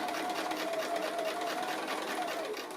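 Sewing machine running a standard-length straight stitch through fabric for a cushion, a steady close mechanical whir and rapid needle chatter held without pause for the whole stretch.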